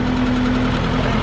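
A tractor engine running steadily close by, a loud continuous low rumble with an even throbbing pulse and a constant mid-pitched drone, no voices.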